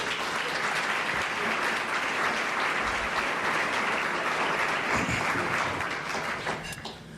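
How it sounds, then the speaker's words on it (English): Sustained applause from a large audience at a community keynote event, dense and steady clapping filling the room throughout, easing slightly at the very end. "please give them all a round of applause"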